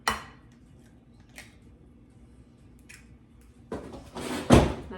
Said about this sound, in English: We're gonna crack 2 eggs into the center.